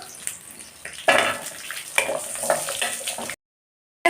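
Chillies, curry leaves and shallots frying in a pan, giving a close, steady sizzle with louder crackling bursts as they hit the oil, then cutting off abruptly.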